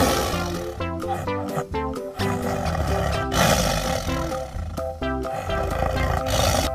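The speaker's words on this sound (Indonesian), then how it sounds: "lihat di sini ada harimau" A tiger roar played among animal sounds, loud and sustained for several seconds and mixed with busy, tonal background music throughout.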